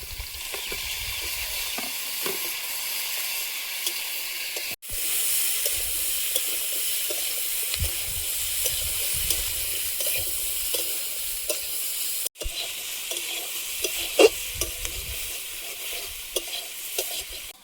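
Brinjal and tomato stirred into potatoes already fried with turmeric and salt, a steady soft sizzle with scraping spoon strokes running through, broken by two brief cuts in sound.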